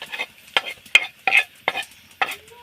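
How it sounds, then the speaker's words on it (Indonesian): Grated coconut for serundeng is stirred in a pan while dry-roasting without oil, giving close, rhythmic scraping strokes roughly every half second, with nothing else heard. "Kita hanya disangrai saja."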